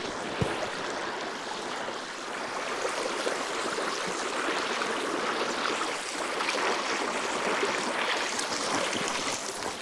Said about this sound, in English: So I can set up right here, right on the creek.